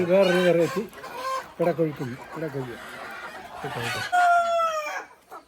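Native chickens on a Kerala hen farm cluck close by in repeated bursts of short calls, ending with a longer, higher drawn-out call.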